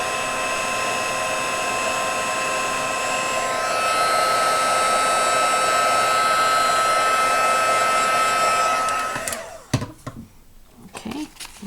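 A heat tool warms a faux-metal craft piece from underneath, producing a loud, steady blowing whine that holds for about nine seconds, then cuts off and leaves faint handling noises.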